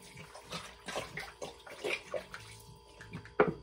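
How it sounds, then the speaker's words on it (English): Water runs into a pressure cooker pot holding oxtails and Caribbean jerk seasoning, a soft irregular splashing and gurgling that ends with a sharper clink. "Then we're gonna fill it up with water and ranch it off."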